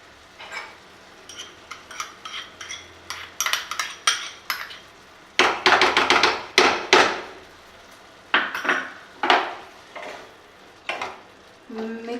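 Prawns with coconut milk and cheese stirred in a pan, repeated loud clattering and scraping of a utensil against the cookware in irregular bursts, close and clear with no talk.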